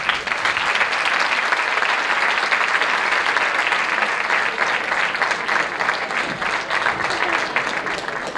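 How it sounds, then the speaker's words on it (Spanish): Concert audience applauding a youth music-school band at a Santa Cecilia concert in Santa Cruz de la Zarza, a dense, steady wave of clapping from a large crowd that holds at full strength throughout, with no talk over it. "Un aplauso fuerte para ellos."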